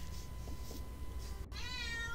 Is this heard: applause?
no